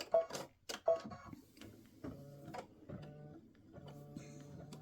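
Embroidery machine stitching the applique placement line for the top and toe of a Christmas stocking, with a few sharp clicks at the start, then quiet steady rhythmic ticking and humming stitches.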